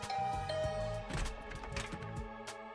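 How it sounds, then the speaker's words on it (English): A chiming two-tone doorbell rings once over soft background music, short and clear, in the video game The Hundred Line - Last Defense Academy. "Rang the doorbell and waited."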